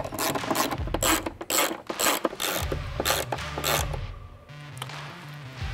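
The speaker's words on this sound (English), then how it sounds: "we'll come back and tighten it up once again with that T30" Ratchet driving T30 Torx fasteners on a Ford Bronco 4-door Trektop panel, a series of quick close clicking bursts with brief pauses between runs, alone without talk.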